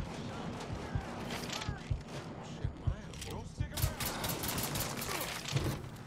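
Gunfire in Mafia III aimed at a car's tire, a series of spaced, punchy low shots over a steady engine-like background, with voices talking in between.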